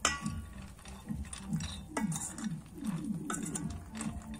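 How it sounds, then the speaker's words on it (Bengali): Fried boondi being dropped into sugar syrup in a metal pan and stirred, producing rapid clinking, clattering and sizzling bursts with scraping of a utensil against the pan, close and fairly busy throughout. "এবারে কিন্তু আমি রসের মধ্যে বোঁদেগুলো দিয়ে দেবো। আর দেখো বন্ধুরা কত সুন্দর আওয়াজ হচ্ছে।"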